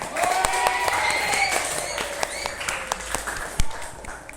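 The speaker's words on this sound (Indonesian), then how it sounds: "Tepuk tangan untuk kita semua." A class of students applauding after a discussion in a training lesson, steady group clapping through the room with faint movement and scattered sharper claps near the end.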